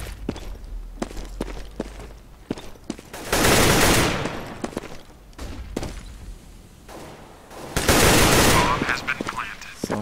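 Gunfire in Counter-Strike on the de_mirage map: scattered single shots and footsteps, then two loud sustained bursts of automatic fire, one near the middle and one near the end.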